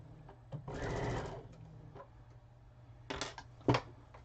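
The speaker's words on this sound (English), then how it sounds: "at the end of the last seam, don't forget to back tack." A sewing machine back tacks at the end of a seam, running in one sustained burst, then short stitching bursts after a pause, close and fairly quiet.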